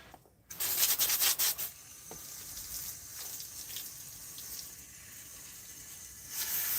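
Tap water runs over a freshly cut fish fillet in a sink, a brief louder rush and splashing at the start, then a steady softer stream of rinsing and rubbing, rising again at the end.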